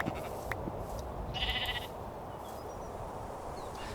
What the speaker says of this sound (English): Not the pink sheep. I'll respect the pink sheep,